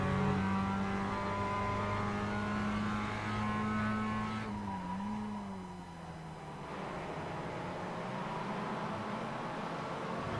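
Race car engine of a Heusinkveld MX-5 lapping Silverstone in iRacing, a steady loud drone whose pitch holds, dips and slides as the car lifts and changes gear, continuous throughout with no talk.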